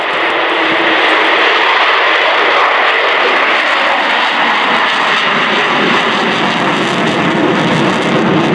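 Avro Vulcan XH558 jet bomber at RIAT 2015, its four engines producing a loud, sustained, broadband roar with a rising howl that fills the entire stretch, with no voices.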